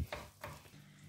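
A spoon scrapes and stirs thick almond brittle mixture in a pan, two or three short, faint strokes with a soft sizzle beneath.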